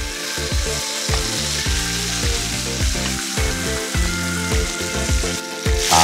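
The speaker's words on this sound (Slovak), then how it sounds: "Je dobré meso opekať zo všetkých strán do zlatohneda." Pork neck rolls fry in melted butter with a steady, loud sizzle and crackle, layered under continuous background music with no talk.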